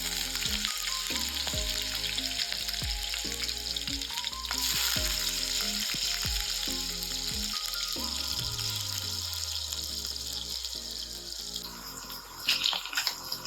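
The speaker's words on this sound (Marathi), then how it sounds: "बटाट्याचे जे आपण काप करून घेतलेले आहेत ते मी शॅलो फ्राय करून घेणार आहे." Potato slices shallow-fry in oil for a green peas masala gravy, giving a steady, close sizzle and crackle with occasional faint clinks throughout.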